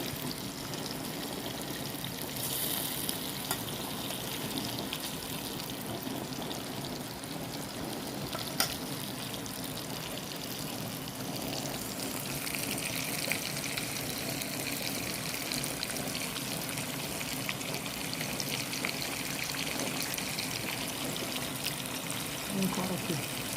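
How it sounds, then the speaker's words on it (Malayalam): Chicken pieces frying in boiling-hot oil give a steady, dense sizzle and crackle that runs unbroken at an even, moderate level throughout, with a few sharper pops. "വെട്ടി തിളച്ച എണ്ണയിൽ ചിക്കൻ ഇങ്ങനെ മുരിഞ്ഞുകൊണ്ടിരിക്കുകയാണ്"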